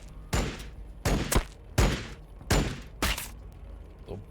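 Bolt pistols firing in the Warhammer 40k BattleSector video game: five loud, sharp bursts, evenly spaced about every three-quarters of a second, each with a short booming tail, heard alone.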